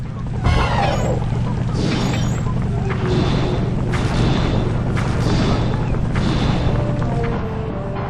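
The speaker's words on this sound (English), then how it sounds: "The R1 button fires your turret." Turret in the PS3 game Sly 2: Band of Thieves firing a series of heavy booming shots, loud and close, repeating roughly every second over a steady low mechanical rumble, with a voice briefly audible.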